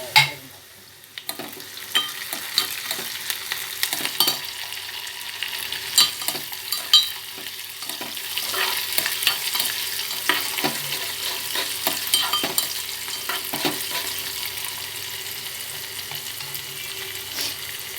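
Tomato dal tempering sizzles and fries in a pan while a spoon stirs and scrapes against the metal, a steady close crackle with irregular stirring knocks throughout.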